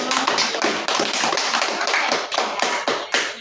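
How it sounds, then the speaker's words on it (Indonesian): Classroom audience applauding a student presentation group, dense rapid hand clapping from several people filling the whole stretch at steady loudness with no talk over it. "berikan tepuk tangan untuk kelompok"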